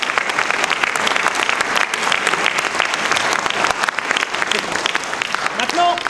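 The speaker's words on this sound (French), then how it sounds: "on peut l'applaudir" Loud, sustained audience applause at the Cinémathèque's 30th anniversary event at Montbenon, filling the whole stretch, with a murmur of crowd voices mixed in.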